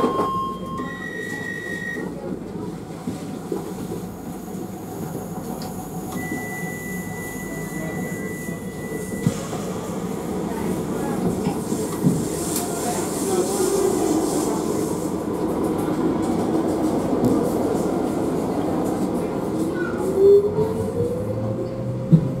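A London Docklands Light Railway train rumbles steadily along the track near Tower Gateway, wheels humming and occasionally squealing, with brief electronic tones near the start.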